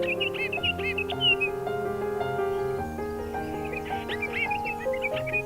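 A group of gray-headed bullfinches forage for ripe fruit on a willow tree in the Hehuan Mountains in September, giving repeated short whistled calls over a steady, mixed background.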